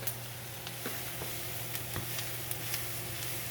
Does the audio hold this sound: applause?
no